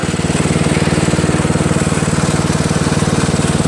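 A Toro Wheel Horse riding mower with a Briggs 8HP engine runs close by, a loud, steady low-pitched chugging with an even rapid pulse and no speech over it.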